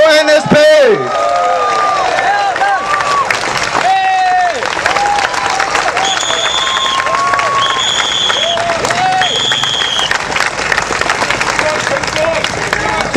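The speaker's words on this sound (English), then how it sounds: "Can we give them a hand of applause for the Marine Parade GRC team for NSP?" Outdoor political rally crowd applauding and cheering for an NSP team, loud sustained clapping with whistles, shouts and a busy babble of voices throughout.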